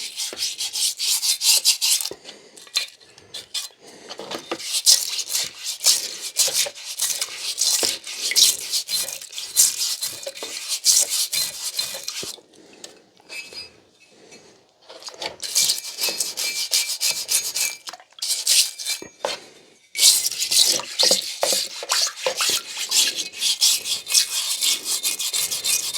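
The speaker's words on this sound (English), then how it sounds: "This is just a stiff brush." Stiff brush scrubbing rust off an axe head in water, rapid rasping back-and-forth strokes in bursts with brief pauses, close and clear with no talk.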